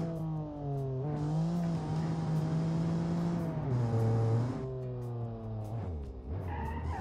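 An older car braking hard on a downhill run, tires skidding and squealing over a steady, wavering engine drone that rises and falls in pitch for several seconds.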